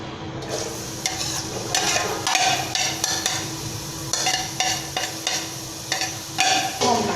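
Onions sizzle in hot oil in a pot while a spoon stirs them in steady strokes, each scrape and clink rising above a constant frying hiss, loud and close.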